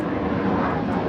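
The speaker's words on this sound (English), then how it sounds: "Oh, that's the Air Force One." Air Force One roars overhead above a Florida farm, a loud, continuous broadband jet rumble with no break over the short stretch.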